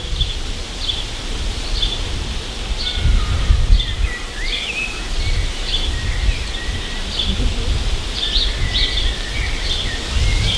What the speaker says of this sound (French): écouter par exemple le son du vent sur ces feuilles là